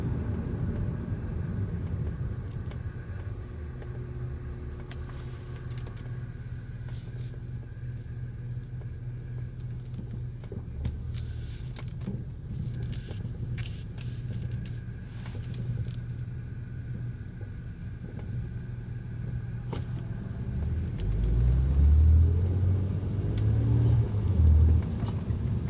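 A 2006 Honda Accord V6 coasting off the gas, steady low road and engine rumble with a faint thin whine above it, swelling louder toward the end as the car slows; no talking.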